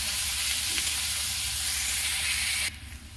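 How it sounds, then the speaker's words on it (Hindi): Finely chopped onions sizzle steadily in a hot pan, a loud continuous frying hiss that cuts back sharply near the end. "इसमें मैं प्याज जो बारीक बारीक काटी हूँ उसे डालूंगी। इसे मैं डीप ब्राउन करूंगी।"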